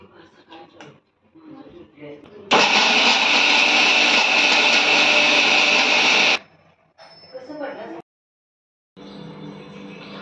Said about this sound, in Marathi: आणि मी आता हे मिक्सरला लावून घेते, बारीक करून घेते.